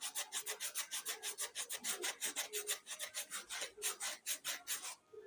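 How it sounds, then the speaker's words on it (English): A file rasping a slipper sole smooth in quick, rhythmic back-and-forth strokes, about twenty close, crisp scrapes in a steady run with no talking. "I've tried to file it so that it will be smooth."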